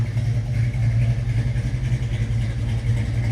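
A restored 1952 Chevrolet 3100 pickup with a 350 V8 idles close by, a loud, deep, steady rumble with a fast lumpy pulse and no voices over it.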